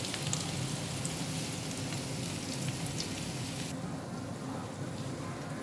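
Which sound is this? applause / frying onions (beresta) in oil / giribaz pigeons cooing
frying onions (beresta) in oil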